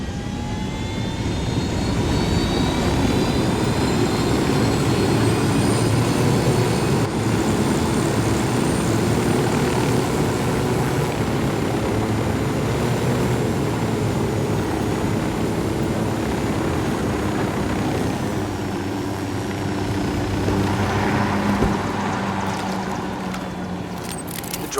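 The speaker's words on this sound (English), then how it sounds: "Drone is up." A surveillance drone flies in the Ghost Recon Wildlands video game, a steady airborne engine drone with a faint rising whine that holds at an even, fairly loud level throughout.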